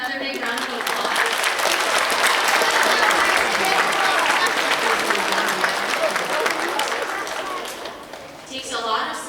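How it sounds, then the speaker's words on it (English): An audience claps loudly and steadily at a winter school choir concert, dense applause filling the room for several seconds before tapering off near the end. "So can we give her another big round of applause?"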